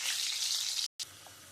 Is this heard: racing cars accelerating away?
no